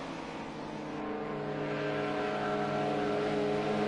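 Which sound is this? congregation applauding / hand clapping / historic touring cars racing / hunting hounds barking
historic touring cars racing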